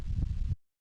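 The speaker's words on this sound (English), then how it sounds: "Click and drag the stethoscope to check his heartbeat." A heartbeat heard through a stethoscope during a pet check-up in the Fisher-Price Time to Play Pet Shop video game, a soft low thumping pulse that cuts off abruptly into silence before resuming.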